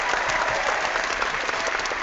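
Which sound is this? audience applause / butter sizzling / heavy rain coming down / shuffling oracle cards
audience applause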